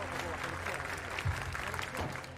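Stadium crowd clapping steadily to support a long jumper at an athletics jump meeting in Košice, a broad continuous wash of applause under commentary voices.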